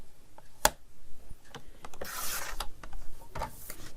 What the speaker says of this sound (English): I'm still not used to cutting through paper this thin.